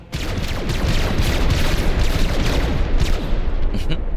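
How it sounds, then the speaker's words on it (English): Gunfire from shooting at scavengers in the video game MENACE: a loud, dense volley of overlapping shots and booms that runs continuously for about four seconds. "let's just deploy and shoot at these scavengers here"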